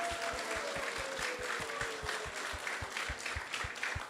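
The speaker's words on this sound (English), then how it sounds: "let's give a big round of applause to everyone who has joined us here tonight" Faint, spread-out clapping from a temple audience at an ISKCON Sunday feast in Silicon Valley, soft and distant, with a low steady hum underneath.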